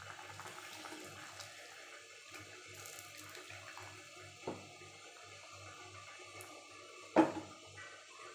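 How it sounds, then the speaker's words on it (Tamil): Tamarind water is poured into a simmering pot of kara kulambu with vegetables, a quiet, steady liquid trickle running throughout, with a slightly louder splash near the end. "இப்போ புளி தண்ணி சேர்த்துக்கலாம்."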